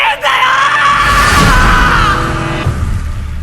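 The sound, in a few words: Eren's scream from the anime Attack on Titan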